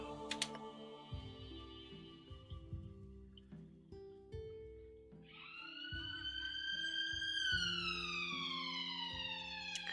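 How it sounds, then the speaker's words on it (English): A police siren wails in the background, its tone sweeping and rising over room noise and scattered clicks, growing louder toward the end. "Apologies if you can hear the police siren,"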